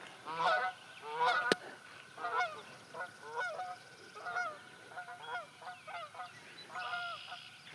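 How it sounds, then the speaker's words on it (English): A chorus of Canada geese honks outdoors at middle distance, repeated calls in irregular bursts throughout the clip with no voices. "We got frogs, we got Canada geese today,"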